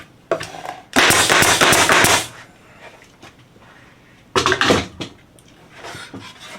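Staple gun driving 1-inch staples into wooden fence boards for a simple holiday welcome sign; a couple of loud, sharp bursts of close, hard clatter separated by quieter room noise, with no talking.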